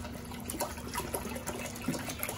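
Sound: pot being filled with spring water from a tap

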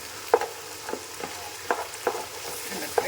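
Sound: stirring sauce into frying chicken fried rice in a pan

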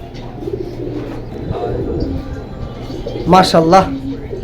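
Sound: Danish dragon pigeons cooing

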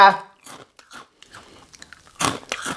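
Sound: crunching on baked crispy Shovy fish sticks

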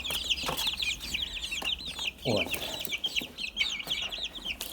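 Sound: chicks clucking

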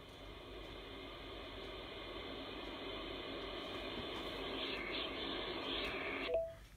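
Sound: waterfall sleep sound played by Vobot smart clock

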